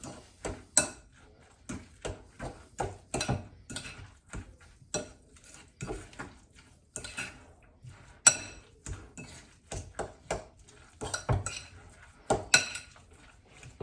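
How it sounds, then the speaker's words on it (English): A salmon patty mixture being stirred in a bowl, heard as repeated clinks and scrapes of a utensil against the dish in an uneven rhythm, close and fairly quiet, with no talking. "Give it a good stir."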